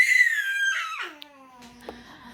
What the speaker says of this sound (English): And a screaming baby in the background.